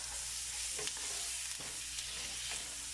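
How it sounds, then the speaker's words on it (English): Tomatoes stirred in a hot pot on a medium-low stove, a steady soft sizzle with gentle scraping strokes at a slow, regular rhythm, close and fairly quiet. "I'm going to add my tomatoes in there, and I'm going to stir this around"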